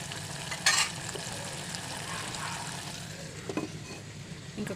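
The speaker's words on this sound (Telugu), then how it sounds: "చూడు, మంచిగా ఉడుకుతుంది ఆయిల్లో" Cluster beans (goruchikkudu) frying in oil, a continuous close sizzle with faint stirring scrapes and a brief clatter of a utensil early on, no voices.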